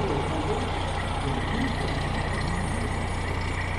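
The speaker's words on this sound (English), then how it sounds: "Here comes the regular ladder truck" A fire ladder truck from Littleton rolls by in a holiday parade, a loud steady engine rumble and road noise filling the whole stretch without letup.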